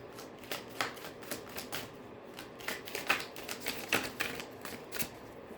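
An Axiom Oracle card deck being shuffled, soft riffling and fluttering card sounds in irregular bursts, quiet and close with no speech.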